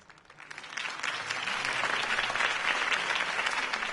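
Sustained crowd applause from a video game, clapping building quickly after a political campaign speech and holding steady and loud throughout.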